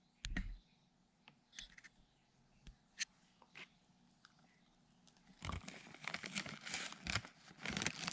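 A fig cutting is pushed into a bag of coconut coir and perlite, producing faint scattered crinkles and clicks from the plastic bag, then a denser stretch of rustling and crumpling near the end.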